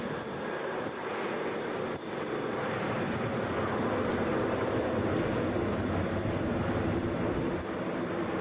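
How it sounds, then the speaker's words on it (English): A Delta Boeing 737 airliner coming in to land at Atlanta International Airport, a steady loud broadband jet roar that swells slightly and holds throughout, with some wind rumble. "This is Delta 2952 coming from Indianapolis, Boeing 737. Coming down about 20 minutes early."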